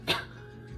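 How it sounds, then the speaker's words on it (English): A single short cough, fairly close and moderately loud, followed by quiet room noise. "cough"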